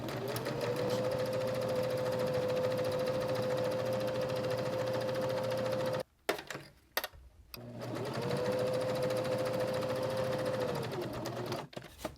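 A sewing machine stitches a beginner fabric tic-tac-toe game project in two steady runs, each about six seconds, loud and close, with a brief pause between them for turning the piece at a corner.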